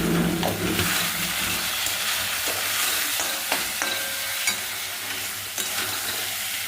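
Green jackfruit frying with cumin and turmeric powder gives a dense, steady sizzle close by, broken by scraping stirs and a few light clinks of the spoon against the pan.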